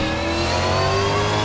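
V8 Supercar race car engine in a racing simulator game, a loud sustained engine roar with steady harmonic tones that climb slightly as it revs, close and continuous, with no talk.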